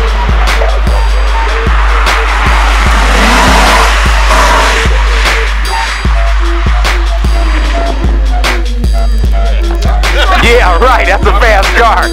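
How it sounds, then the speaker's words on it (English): A fast car driving past on a street, its engine roar and tire noise loud and close, swelling as it passes, with repeated sharp clicking and rattling throughout and a little talk near the end. "Right, that's a fast car."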